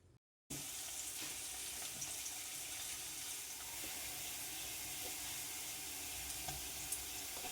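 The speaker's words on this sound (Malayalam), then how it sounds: "ഇനി നമുക്കൊരു ചീഞ്ചട്ടിയിലെ എണ്ണ ചൂടാക്കിയിട്ട് അതിലേക്ക് നമ്മുടെ ഈ ചെറിയ ഉള്ളിയും കറിവേപ്പിലയും വെളുത്തുള്ളിയും കൂടെ ഇട്ട് കൊടുക്കാം" Shallots, curry leaves and garlic fry in hot oil in a pan, giving a steady, dense, crackling sizzle that starts abruptly after a brief pause and holds at an even level.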